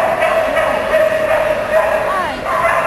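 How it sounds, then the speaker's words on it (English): A border collie at an AKC nationals agility event barks and yips excitedly, with an announcer talking over a noisy crowd. "This is F5 Tornado, a border collie."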